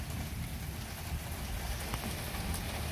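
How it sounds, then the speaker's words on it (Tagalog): Heavy rain in Germany pours down steadily, a dense, constant hiss of drops hitting surfaces with no let-up. "Ayan, lakas ng ulan."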